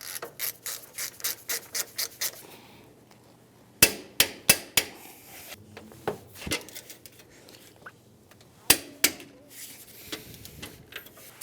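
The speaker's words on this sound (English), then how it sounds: "We're going to use our 22mm wrench on the front." A 22mm wrench ratchets strut bolts on the front of a 2011-2017 Honda Odyssey, producing bursts of sharp, rapid clicks separated by short quiet gaps, close and fairly loud, with no talking.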